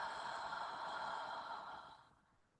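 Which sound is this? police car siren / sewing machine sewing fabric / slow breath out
slow breath out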